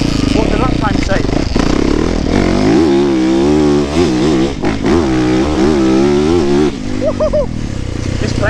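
A 450cc motocross dirt bike is ridden on slow laps, its engine droning and rising and falling in pitch as the throttle opens and closes, loud and close, while a rider talks over it.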